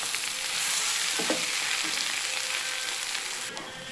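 Sliced potatoes for aloo curry fry in an oiled pan, giving a steady, close sizzle with a few soft stirring scrapes and no talking.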